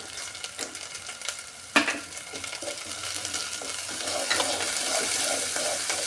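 Ginger and onion paste cooks in hot oil with a steady, moderate sizzle, scraped by occasional stirring and one sharp utensil knock near the pan; no voices.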